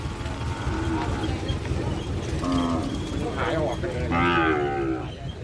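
A water buffalo mother calls with several long, loud moos at a village livestock market in Lopburi, Thailand, with crowd chatter and other farm-animal noises around it.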